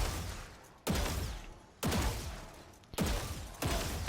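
Gunshots in the video game Valorant, four loud single shots spaced about a second apart, each a sharp crack with a fading reverberant tail, no talking.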